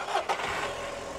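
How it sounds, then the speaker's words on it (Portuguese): The engine of a used car at a used-car market turns over and catches, a short burst of cranking that settles into a steady running rumble, fairly faint. "pedi pro Zé Queiroz dar partida aqui no motor"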